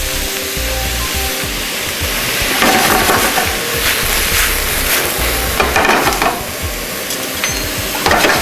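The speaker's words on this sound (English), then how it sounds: "Stir that a little bit, and we're going to add our sliced mushrooms" Sliced mushrooms saute in a pan alongside diced onions, giving a loud, continuous close sizzle with scraping stirring noises that rise and fall, and no voices.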